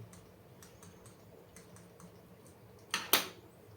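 Typing code on a computer keyboard during a Java basics lesson: soft, scattered key taps at a steady pace, ending with two louder, sharper clacks close by.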